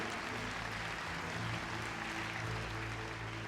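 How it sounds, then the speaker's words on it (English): Applause from the arena audience at the Crufts 2016 dog show, a steady wash of clapping with low hum beneath, continuous for the whole stretch without a voice over it. "That's a round of applause for Alan Goodchild and Petra."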